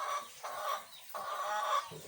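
KUB native chickens clucking close by in a few short bursts, with steady farmyard background noise.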